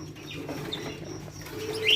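Female kinoi pigeon making soft, low cooing calls in a bird shop, steady and close, with faint chirps from other birds nearby and a brief higher call near the end.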